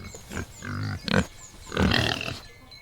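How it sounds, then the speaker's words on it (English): A farm pig grunts several times up close, short nasal snorts and rumbling grunts in uneven bursts separated by brief pauses. "Don't forget about Percy the pig."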